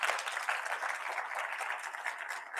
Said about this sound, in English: So just a round of applause for Cindy.